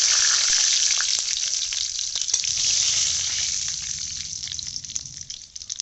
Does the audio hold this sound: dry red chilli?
yes